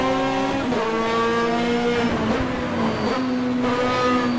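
Race cars in the Automobilista sim, following a Porsche: a loud, close engine note rises and drops through gear changes, with a brief tire squeal and other cars roaring nearby.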